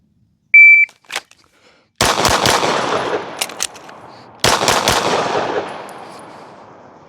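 Pistol shots at timed target practice, set off by a shot-timer beep and fired in two fast strings of crisp, loud, echoing cracks split by a short silent pause for a reload.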